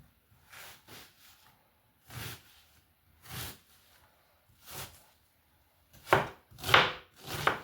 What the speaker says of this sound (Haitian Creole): Rache zonyon.